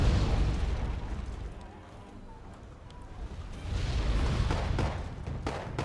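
Mortar fire from Panzer mortars in the strategy game Wargame Airland Battle, heavy thudding explosions and bursts swelling and fading in waves, with a voice talking at times.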